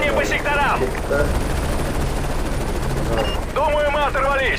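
In a video game combat scene, an enemy helicopter's rotor roars continuously while dense machine-gun fire rattles nearby and shouted voices cut in over the din.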